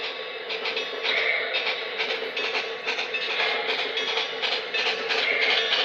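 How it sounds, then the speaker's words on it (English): A B&O EM-1 model locomotive, custom weathered and hauling a string of reefers, runs along a model railroad layout, giving a steady close mechanical whir with rhythmic clicking of wheels over rail joints throughout. "Just a beautiful locomotive."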